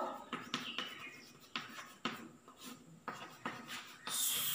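Chalk or marker strokes on a board during a chemistry lesson, a series of short scratchy bursts at an irregular pace, fairly close and moderately quiet, with no talking.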